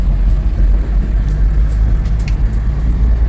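Car driving on a road with a constant low engine rumble, moderately loud and steady, with no voices.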